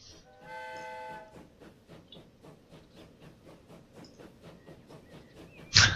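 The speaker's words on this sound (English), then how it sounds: "Our first train!" Train in the Transport Fever video game setting off, a whistle at the start, then a steady chugging rhythm of the wheels, fairly quiet, with a sharp bang near the end.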